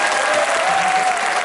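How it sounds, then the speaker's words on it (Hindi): Loud, dense applause from a crowd at an interactive leadership session, steady and close with no pauses for the whole short stretch. "जोरदार तालियां."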